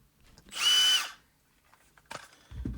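A short burst of a Milwaukee M18 cordless drill whirring at high speed for about half a second, close and loud, followed by faint clicks and handling noise.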